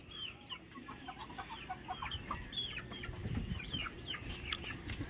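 Several chickens cluck repeatedly in quick, overlapping bursts at a moderate distance, over a low steady background hum.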